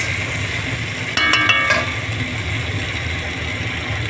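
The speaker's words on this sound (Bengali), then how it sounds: "ডিমগুলো দিয়ে আমি হালকা করে কষিয়ে নেব।" Fried eggs being lightly sautéed and stirred in a pan give a soft steady sizzle over a low background hum, with a brief cluster of clinking scrapes from the spoon near the middle, no talking.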